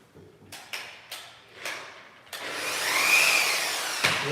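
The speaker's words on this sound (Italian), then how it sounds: "E adesso lo andiamo a lucidare." A trowel polishes Venetian plaster to a marble effect, giving several short scraping strokes that build into a longer, louder continuous rubbing swish, with one final brief scrape.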